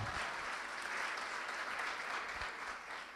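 A church congregation applauds a man, steady massed clapping that stays fairly even and moderately loud for the whole stretch, with no voices on top.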